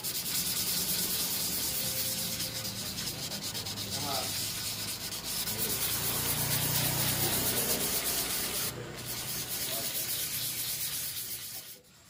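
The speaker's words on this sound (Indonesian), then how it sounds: "kita amplas yang agak dalam sampai dengan menemukan permukaan yang rata" Sandpaper rubs steadily against scratched glass in a continuous, close scratching hiss that lasts several seconds before stopping.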